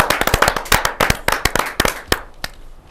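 At a Hindi poetry gathering, a small audience gives a burst of scattered, sharp hand claps that thin out and fade after a couple of seconds.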